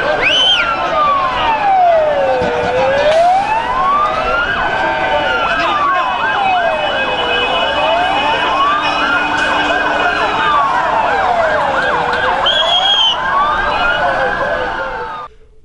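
A loud ambulance siren wails, rising and falling steadily throughout, with other ambulance sirens and street noise layered underneath, continuous and close.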